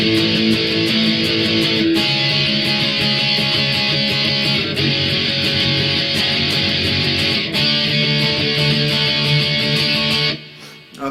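Guitar strumming verse chord shapes played alone, a steady run of chords with regular strums and sustained ringing notes that cut off near the end.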